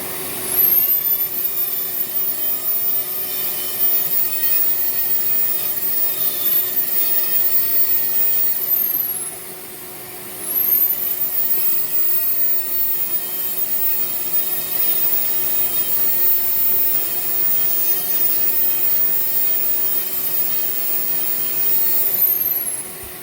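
Dremel rotary power carving tool shaping a wooden snowman figure, a high-pitched steady whine grinding continuously up close, briefly dipping as the bit lifts off around the middle before resuming.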